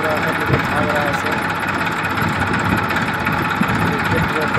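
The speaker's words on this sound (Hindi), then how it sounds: "सर देखिए ट्रैक्टर को देख लेके आ रहा है" A Massey Ferguson 1035 tractor engine runs at a steady, loud diesel chug with constant vibration throughout, while people talk over it.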